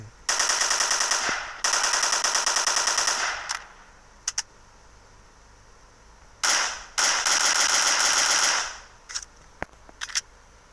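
A new gun in the Flat Zombies video game fires in long, loud automatic bursts separated by short pauses, with several single sharp shots near the end.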